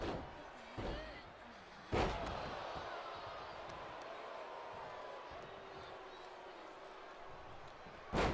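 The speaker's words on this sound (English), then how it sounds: "Tamina slamming the back of Chyna's head into the mat." Heavy thuds from a wrestler's head being slammed into the mat in a wrestling video game: one slam near the start, a sharper one about two seconds in, and another at the very end, all over a steady arena crowd roar.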